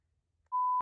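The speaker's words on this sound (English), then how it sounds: "My GoPro made a beep." A GoPro action camera gives a single sharp electronic beep, a steady pure tone lasting about a third of a second in otherwise quiet surroundings at night, with no talking.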